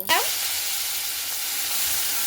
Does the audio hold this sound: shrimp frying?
yes